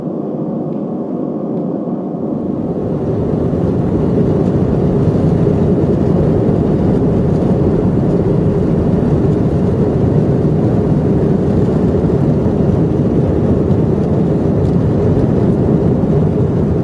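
Airplane taking off, heard from inside the cabin: after a quieter opening the engines swell within a few seconds into a loud, steady, broadband roar that holds to the end.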